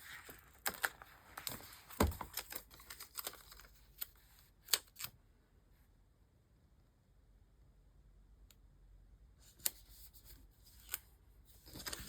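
Scissors trimming paper stickers while setting wellness goals, heard as a run of close, crisp snips and cuts over the first five seconds, then a quiet pause and a few more scattered snips near the end.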